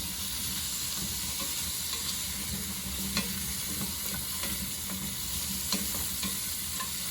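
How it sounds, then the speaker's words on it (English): Vegetables sweating in a pan, sautéed without browning: a steady, soft sizzle with occasional scraping taps of stirring, close and unbroken, with no voices. "call this a saute, it's also really sweating the vegetables"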